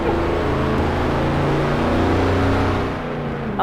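Steady, loud truck engine drone from Truck Logistics Simulator, a continuous low rumble with layered harmonic hum that holds evenly and eases slightly near the end, with no speech.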